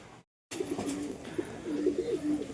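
Soft, low cooing from young Punjabi pigeon chicks repeats in short murmuring bursts, fairly faint and close, after a brief moment of silence.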